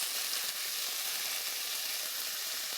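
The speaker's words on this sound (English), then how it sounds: "let it get pan fried and turn into a roasted pink color" Ginger, garlic and onion sizzle steadily in a frying pan for a creamy tomato-based mushroom sauce, a close, even hiss with no pauses and no voices.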